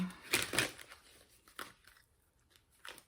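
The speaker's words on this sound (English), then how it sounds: "Sorry if that is a loud shuffle with this mic that I'm wearing" A Soul's Journey tarot deck is shuffled near a worn microphone, producing a few loud crisp card riffles and flicks in short bursts with quieter gaps between them.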